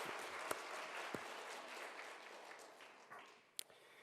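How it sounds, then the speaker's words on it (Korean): A church congregation claps to encourage the children who led the worship singing during a Sunday service. The applause is soft and somewhat distant, a continuous patter with a few sharper individual claps, fading slightly toward the end. "우리 아이들 위해서 박수로 한번 격려하겠습니다."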